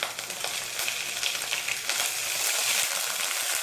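Steady hiss and crackle of mustard seeds and urad dal lentils spluttering in hot oil, popping continuously up close with no talking.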